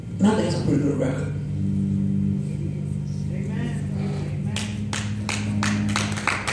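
An audience at a religious gathering bursts into scattered clapping near the end, the sharp hand claps coming after a stretch of talking and a low sustained tone.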